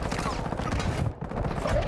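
Dense, overlapping gunfire in the Warzone 2.0 video game crackles continuously and loudly, briefly dipping before resuming, with other game sounds mixed in.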